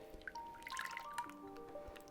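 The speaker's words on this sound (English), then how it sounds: "We're gonna pour our melted butter in a new bowl." Melted butter trickles from a container into a new mixing bowl for chocolate cookie dough, a faint, close liquid pour with soft drips and small gurgles.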